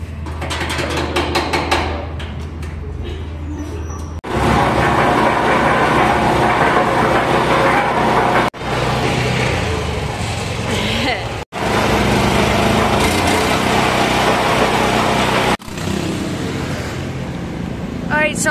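A Honda engine is started and runs with a rattling, mechanical chug, loud and close, heard in several cut segments with people talking around it.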